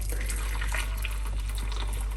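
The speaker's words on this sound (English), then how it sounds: "I'm going to pour the hot water into the bowl." Hot water pours from a kettle into a bowl at home, a steady close splashing stream with a low rumble underneath, lasting the whole moment without a break.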